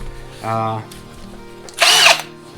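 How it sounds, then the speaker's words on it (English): A Milwaukee cordless drill with a 9 amp-hour battery whirs in two short bursts, the second higher and louder, close up, with faint talking in between. "Drill and impact."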